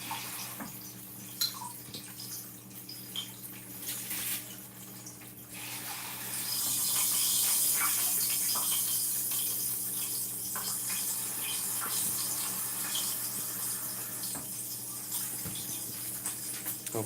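Tap water runs steadily into a measuring cup in a kitchen, a soft hiss that swells and grows fuller as the stream continues, with occasional clinks and faint background hum.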